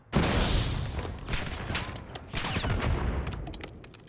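Sustained automatic gunfire in Call of Duty fills the clip, with dense overlapping bursts in a firefight that rise and fall in waves, loud and close, and no talk is heard.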